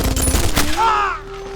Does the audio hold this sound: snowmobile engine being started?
no